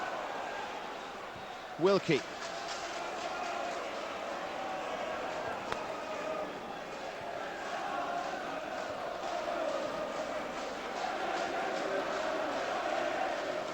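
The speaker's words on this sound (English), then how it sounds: "Don't know why they're booing him, but there you go." Football crowd at a Partick versus Dundee match booing a player, a steady broad roar filling the stadium under close commentary, with a brief louder shout near the start.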